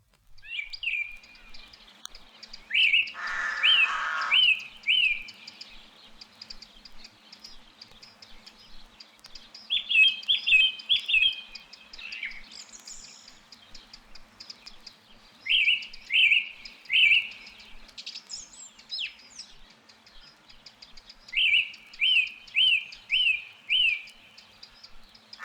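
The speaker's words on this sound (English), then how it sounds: "a song thrush sings to the accompaniment of rooks and chiding wren" A song thrush sings in an exposed coastal wood, with repeated bright phrases in bursts separated by pauses, alongside distant rook calls and a wren's chiding, moderately near over a quiet background.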